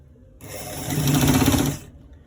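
A sewing machine stitches a collar roll, running in one close, steady burst of rapid mechanical whirring for about a second and a half, with silence before and after.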